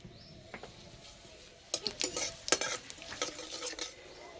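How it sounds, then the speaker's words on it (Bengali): A wok of mustard oil with five-spice seeds and dry red chillies gives a faint hiss, then a metal spatula scrapes and clinks against it in a quick run of close, sharp strokes. "5 ফোড়ন শুকনো লঙ্কা,"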